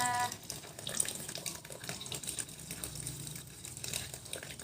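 Termite mushrooms being washed in a basin of water, with steady splashing, swishing and dripping close by throughout, like running tap water and hands rinsing the caps.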